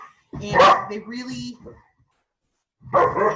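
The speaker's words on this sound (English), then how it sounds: "that's my dog" A pet dog barks and yips in short, loud bursts at close range while a person keeps talking over and between the barks indoors.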